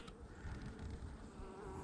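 Honey bees hum in a dense, continuous drone close by during a hive inspection, steady throughout with no talking.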